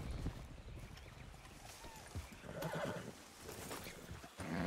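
A horse in a video game whinnies near Dakota River Bend, with faint clip-clop hoofbeats around it, all heard quietly against a soft background.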